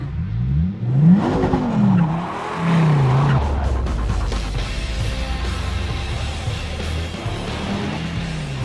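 A Dodge Viper GTS launches hard with launch control engaged. The loud, close engine note climbs and drops through quick gear changes, then settles into a sustained heavy roar with road and tire noise beneath.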